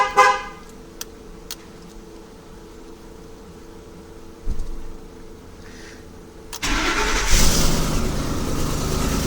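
A remote starter cranks a gas or diesel 2008–2010 Ford Super Duty truck, with faint clicks and a quiet lull before the engine catches and settles into a loud, steady run.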